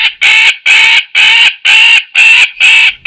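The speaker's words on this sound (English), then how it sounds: "The first example is an alarm or distress call produced by a magpie bird." Magpie alarm or distress call, six loud harsh rasping bursts repeated in an even, rapid rhythm, close and alone.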